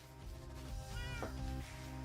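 A cat in a video game gives a faint, short meow that rises and falls, heard alone against a quiet game soundtrack.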